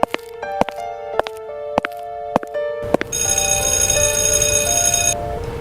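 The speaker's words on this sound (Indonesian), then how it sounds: "sebentar lagi bel" An electronic bell in an animated school drama rings in a run of sharp evenly spaced tones, then swells into a sustained loud chime melody, with no talking.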